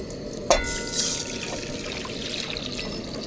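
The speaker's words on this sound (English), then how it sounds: "we're just about to dump the water in" Water poured into a hot camping stove pot holding rice and oil, starting with a sharp splash and hiss, then continuing as steady sizzling and bubbling liquid, close and fairly loud with no talk.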